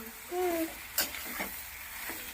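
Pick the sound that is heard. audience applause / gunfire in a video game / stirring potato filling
stirring potato filling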